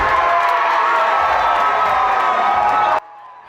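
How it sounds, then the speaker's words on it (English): Chiefs fans crowd KC Live in Kansas City's Power and Light District and roar with loud, sustained cheering and whooping from a dense crowd that cuts off abruptly near the end. "Chiefs Kingdom packed into the Power and Light District to cheer the team on to victory."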